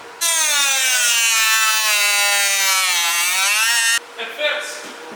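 Power tool grinding away at a vent on a car's carbon bumper: a loud, steady high-pitched whine with a slowly sagging pitch for about four seconds, then cutting off to leave brief faint shop clatter.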